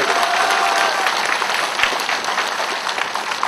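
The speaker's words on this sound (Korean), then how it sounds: "이 또한 박수 받아야 될 일 아닙니까?" Audience applause at a political campaign speech by Roh Moo-hyun for local elections in Ansan, a dense steady wash of many hands clapping throughout, loud and sustained with a faint crowd murmur beneath.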